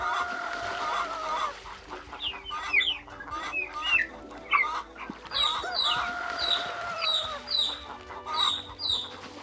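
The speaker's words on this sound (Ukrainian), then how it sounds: "І вони пішли на пташине подвір'я. Там стояв жахливий галас." Busy poultry yard with chickens clucking and squawking continuously, overlapping calls rising and falling, fairly close and lively throughout.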